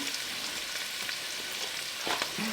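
Bacon sizzling in a pot of bean soup with garlic on a wood cookstove, a steady fry with a few louder stirring clatters near the end.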